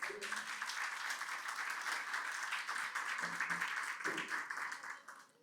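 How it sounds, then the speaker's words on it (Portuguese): A church congregation applauds in praise, a moderately quiet, steady patter of many hands lasting about five seconds and trailing off, with a few faint voices calling out underneath. "Você pode aplaudir o Senhor por isso?"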